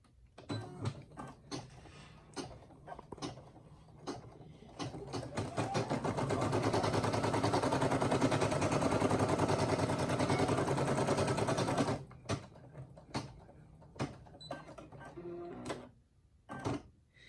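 A Brother PR670e embroidery machine stitches a patch with plastic, a steady, loud, fast mechanical whirring and clatter running for about six seconds, set between scattered knocks and handling sounds before and after.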